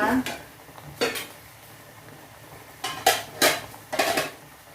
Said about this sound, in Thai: เราเปิดฝาเลยนะคะ